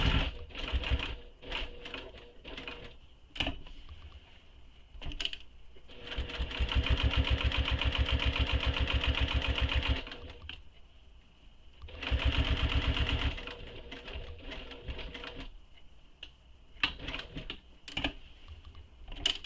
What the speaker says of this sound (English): So this is where we take one stitch, pivot, and stitch back down the flap.